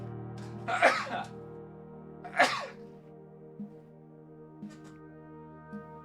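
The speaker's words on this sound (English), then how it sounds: "I'm about to sneeze." Two close, sharp sneezes from a person playing the game Blue Prince, about a second and a half apart, with a quieter throat sound afterward, all over steady, soft background music.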